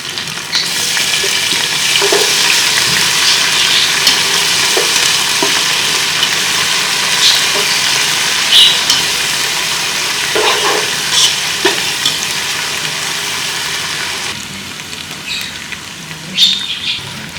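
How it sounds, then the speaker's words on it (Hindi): Loud, continuous sizzling as a ginger, garlic and chili paste fries in hot oil with browned onions, with scattered scrapes and taps of stirring throughout. "इसमें अदरक, लहसुन और मिर्च का पेस्ट डाल।"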